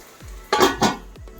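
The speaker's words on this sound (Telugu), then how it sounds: "మూత పెట్టేసుకుందాం" A metal lid set onto a cooking pan where onion paste is frying: a couple of close, bright clattering clinks of metal on metal, brief and fairly loud, between softer knocks, with no talking.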